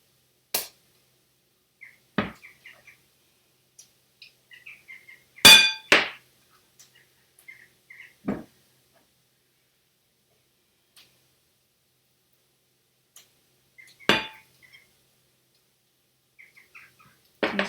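Dishes clink while food is served in a home kitchen during a vegan falafel cookalong. A handful of sharp, isolated clinks and taps ring out close by, separated by long stretches of near silence.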